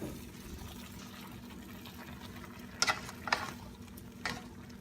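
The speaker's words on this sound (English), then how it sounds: "Let's give a good stir again" Pork belly and bitter melon stirred in a pan, a low steady hiss of cooking with a few brief scraping clatters from the utensil near the end, close and fairly quiet.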